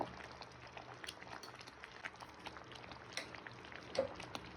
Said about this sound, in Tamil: பாருங்க, இது நல்லா கொதிக்குது.